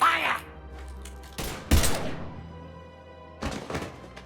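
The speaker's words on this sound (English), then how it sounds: "Now open fire!" Gunfire and heavy impacts in the Mass Effect 3 video game, with a sharp burst at the start, thumping shots around the middle and another loud cluster near the end, over a low game soundscape.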